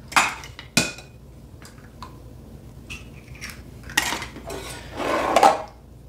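Two homegrown eggs cracked into a bowl of gluten-free pancake batter, heard as a few sharp close taps and clinks, then a splashy rattle near the end.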